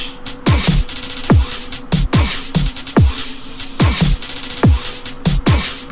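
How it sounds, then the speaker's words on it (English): A crash cymbal sample washes over a loud EDM beat programmed in FL Studio, its bright, hissing splashes layered with booming, pitch-falling kicks and crisp percussion in a repeating pattern. "And then I have a crash."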